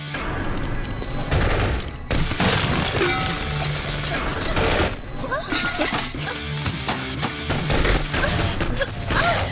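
Dense, continuous movie gunfire fills the scene, with loud overlapping volleys, crashes and shattering impacts throughout, and brief shouted voices mixed in.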